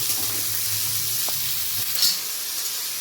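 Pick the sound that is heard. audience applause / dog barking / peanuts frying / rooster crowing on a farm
peanuts frying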